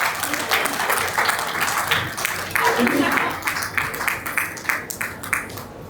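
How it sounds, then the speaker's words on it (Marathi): Applause breaks out at an 80th birthday celebration, a room of guests clapping steadily for several seconds, with a few voices chattering underneath. "जोरदार आपण त्यांच्यासाठी टाळ्या वाजवूया."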